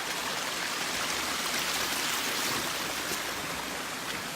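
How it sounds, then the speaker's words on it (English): A small waterfall water feature at a wildlife center enclosure, trickling slowly in a soft, steady hiss of splashing water, moderately faint and continuous, with no talking. "Notice how slow the waterfalls is coming out of that."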